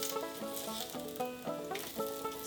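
Turkey bacon sizzles and crackles steadily in a hot frying pan, a continuous bright frying hiss with layered popping, close and fairly quiet, with no talking.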